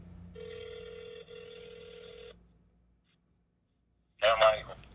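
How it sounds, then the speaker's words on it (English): A phone call rings through a speakerphone as a steady electronic tone lasting about two seconds, then falls quiet before a brief burst of sound. "This is me calling you, Muhammad, on my phone"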